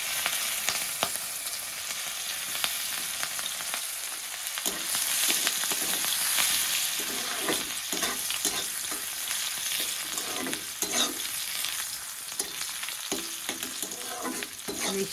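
Fish frying in hot oil for a fish curry sizzles continuously and close by, with occasional scraping and tapping from stirring in the pan and no voices.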